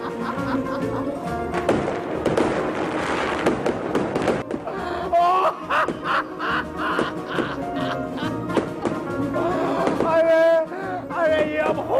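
Sharp, irregular bangs and crackles burst repeatedly over a busy, noisy background, with voices talking amid the explosions.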